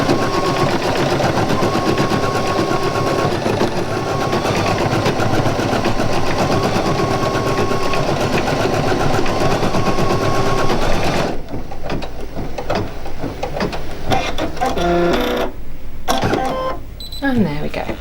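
A Brother Innovis 800E embroidery machine stitches an FN monogram with a rapid, steady mechanical chatter that runs loud and close, then stops and gives way to softer clicks and handling noises.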